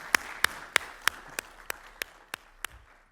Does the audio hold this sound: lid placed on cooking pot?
no